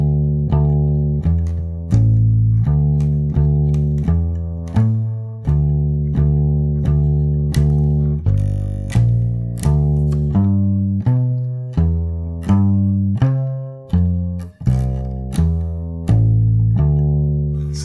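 Bass line of a jazz standard played squarely, a steady walk of evenly spaced, plucked low notes with no variation in feel, alone and clear.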